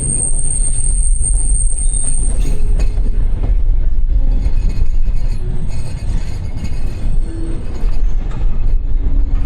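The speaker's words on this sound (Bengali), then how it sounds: "তো ফাইনালি এগারোটার দিকে আমাদের ট্রেন হচ্ছে দক্ষিণ পশ্চিম অঞ্চলের সব থেকে বড় যে জংশন দ্বীপ সেখানে প্রবেশ করতেছে এখন" Loud train rolls into the large Ishwardi railway junction, a rumbling roar of wheels on track with scattered squeals and metallic clatter that continue throughout.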